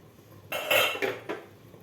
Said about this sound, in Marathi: इडली नऊ ते दहा मिनिट झालेले आहेत तर आता आपण झाकण काढून बघूया